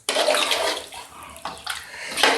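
Two cups of water poured into a pot of mutton bone curry, a close splashing gush in a few short pours.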